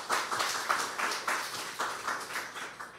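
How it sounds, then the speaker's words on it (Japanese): A church congregation at Onnuri Church Osaka applauds the choir and worship team during Sunday worship, a sustained round of hand clapping that pulses in loose waves and stays fairly close and full. "聖歌隊、また賛美チームのために励ましの拍手をお願いします"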